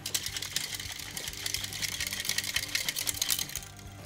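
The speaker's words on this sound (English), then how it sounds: "Just using that to help aerate the cocktail and the egg white. So let's give this what we call the dry shake." Cocktail with egg white dry-shaken in a shaker with a spring inside, a fast, steady rattling and sloshing rhythm that runs continuously and close throughout.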